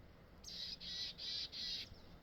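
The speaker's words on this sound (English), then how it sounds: "I've never seen a little chickadee so upset." An agitated chickadee in a treeline forest gives four evenly spaced, buzzy call notes, fairly faint over a quiet outdoor background.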